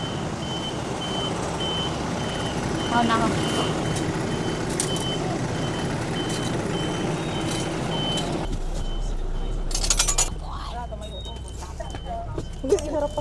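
A bus pulls in on a street in Taiwan while a reversing alarm beeps again and again over the rumble of its engine and air brakes. People chat nearby, and a sharper burst of noise comes near the end.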